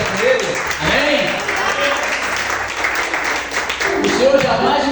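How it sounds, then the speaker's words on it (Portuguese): Church congregation applauding together during a worship service, a steady dense wash of clapping that holds loud throughout, with voices mixed in under it. "Vamos receber o pastor Rick com uma forte salva de palmas para o Senhor Jesus Cristo"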